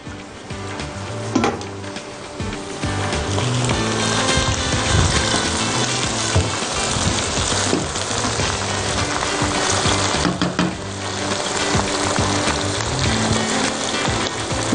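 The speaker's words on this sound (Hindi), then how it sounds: "थोड़ा पानी डाल रहे हैं" Water poured into a hot pan of cooking chilies and masala sets off a loud, continuous sizzle and crackle that holds steady throughout, with no talking.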